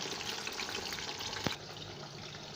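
Potatoes deep frying in hot oil for beef biryani in a home kitchen, a steady, dense sizzle and crackle that continues throughout with one brief clatter near the middle, no talk.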